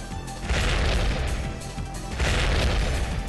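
Bombs explode in Bomberman Generation, two loud rumbling blasts about two seconds apart over a dense, noisy game soundtrack.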